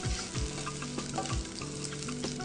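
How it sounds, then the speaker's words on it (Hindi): Sliced onion sizzles in hot oil in a pan for an Indonesian chicken sambal, a close, steady frying hiss with a few low thumps from stirring. "अब जल्दी से एक छोटा प्याज स्लाइस कर लें और इसको तेल में डाल दें।"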